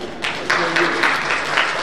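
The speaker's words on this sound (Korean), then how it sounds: "우리 박수 한번 보내주십시오" Brief burst of audience applause at a breakfast lecture, steady clapping from a seated crowd lasting under two seconds, fairly close and full.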